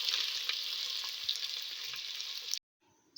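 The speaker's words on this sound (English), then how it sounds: "Oil is heated, so I'm going in with my onions." Steady, bright sizzling of onions frying in hot oil with small crackles and pops, close and constant, then it abruptly cuts out.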